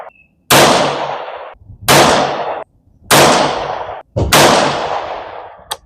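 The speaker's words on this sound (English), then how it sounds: "then trying to shoot that bullet hole" Tikka T1x rifle in 17 HMR firing CCI rounds: four sharp, loud shots about a second apart, each followed by a decaying ring, with no talk.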